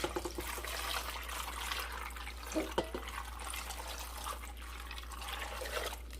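Liquid poured over onions for pickling, a sauce of brine, plum extract and vinegar, splashing and trickling at a steady, soft level with a few brief louder splashes near the middle.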